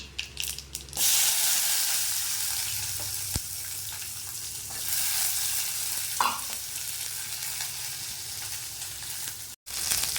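Whole dried red chilli and small shallots sauté in a pan with a loud, continuous sizzle and a few faint stirring knocks.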